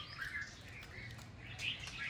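Faint bird chirps and tweets sound intermittently from a nearby tree at a village temple, in an otherwise quiet outdoor setting with a low background rumble.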